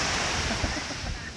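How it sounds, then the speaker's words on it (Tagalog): Afternoon sea waves washing onto the shore, a steady broad rush of surf with some wind buffeting the microphone and a voice speaking over it. "Ito po ang dagat po namin ngayong hapon po mga Kaunesa."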